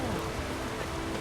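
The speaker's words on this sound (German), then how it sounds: "Es regnet." Steady rain patters on a surface in a game scene, a dense continuous hiss with faint tonal background sounds layered over it.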